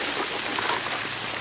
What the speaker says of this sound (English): Got her all planted, now it's raining.